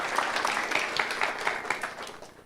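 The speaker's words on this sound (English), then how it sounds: "once again, a round of applause to Dr." Steady audience applause at a strategic plan launch for Ciheb-Kenya, honoring Dr. Jeff; dense, even clapping from a room of people that gradually fades toward the end.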